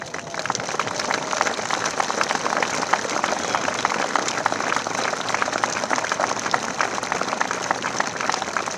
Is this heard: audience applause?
yes